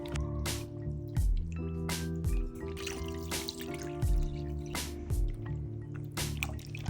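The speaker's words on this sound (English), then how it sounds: "Just trust the process and continue adding the water and washing the dough." Flour dough is washed by hand in water to make seitan, producing steady close-up squelches and repeated drips of water. Faint background music sits underneath and there is no speech.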